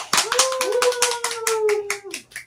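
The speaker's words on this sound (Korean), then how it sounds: "박수로 부탁드리겠습니다." A small audience at a 2021 community welfare centre festival lecture claps to welcome a guest: a sparse run of distinct handclaps, near and fairly loud, with a drawn-out whining tone running under the claps.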